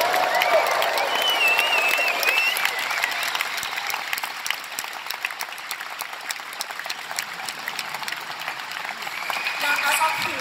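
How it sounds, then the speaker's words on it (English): An audience at the International Astronautical Congress in Bremen cheers and applauds steadily during a live link with the International Space Station, dense sustained clapping with crowd noise throughout. "So I think a big cheer from the audience again for the International Space Station."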